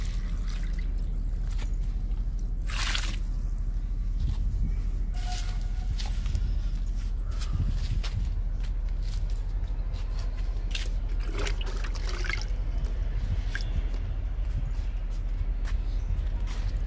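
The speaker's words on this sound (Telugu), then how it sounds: "లిక్విడ్ ఇస్తున్నా." Liquid fertilizer made from papaya peels soaked for two to three days is poured onto potted plants, a steady trickling and dripping of water running continuously under a faint outdoor background.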